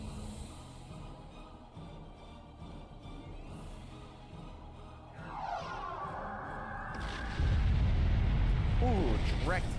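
Starship weapons fire and explosions in Star Trek Online, with rumbling booms and sweeping energy blasts that swell louder toward the end and a heavy blast close by, under urgent voices.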